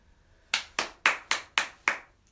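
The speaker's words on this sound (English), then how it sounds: "That deserves a round of applause." Six crisp, evenly spaced hand claps ring out close and clear in a quiet room, each sharp slap decaying quickly before the next.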